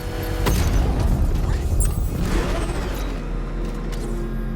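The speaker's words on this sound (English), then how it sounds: "I can use the power winch to trigger a controlled explosion." A controlled bomb explosion in the Batman: Arkham Knight video game goes off as a deep, rumbling boom with debris and mechanical clatter, loud and sustained before slowly settling into a low roar.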